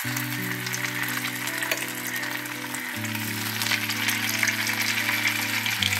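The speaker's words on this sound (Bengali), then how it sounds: "একটা মাছ ছাড়ছি প্রথমে, বেশি ছাড়বো না, আবার লেগে যাবে।" Amodi fish frying in hot oil in a pan, a steady loud crackling sizzle throughout, with a sustained background tone running underneath.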